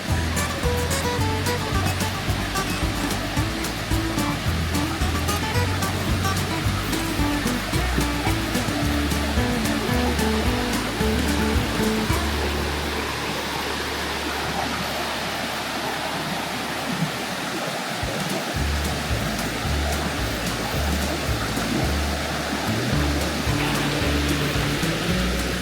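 A river rushes right beside a forest campsite along Old Santeetlah Road near Robbinsville, North Carolina, giving a loud, steady, unbroken roar of flowing water throughout.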